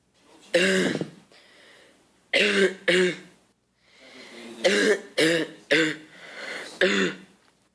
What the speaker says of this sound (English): So I'll do all the coughs, and then I'll ask you to identify them.